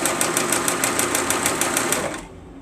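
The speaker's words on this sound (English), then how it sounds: "So this sewing machine now needs to be used and not set." A sewing machine runs fast with a rapid, even mechanical clatter for about two seconds, then stops, leaving a quiet hum.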